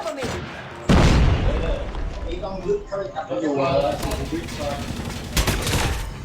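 Gunfire rattles in the video game Call of Duty Mobile, with a heavy burst near the start and scattered shots later, while voices talk excitedly throughout.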